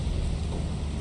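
Steady, dense rain with a low thunder rumble on a planet in the video game Lethal Company, heard as a continuous faint wash without talk.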